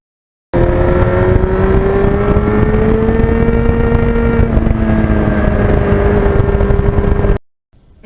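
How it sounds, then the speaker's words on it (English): A 1991 Yamaha FZR 1000 sport motorcycle pulls through the gears, its loud, close engine note climbing steadily, dipping briefly at a shift, then rising again before cutting off abruptly. "when you go through the gears on this bike, it's great"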